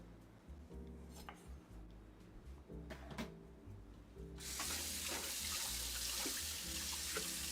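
Kitchen sink tap turned on, a loud steady rush of running water beginning midway and continuing to the end, preceded by clattering dish or drawer knocks nearby.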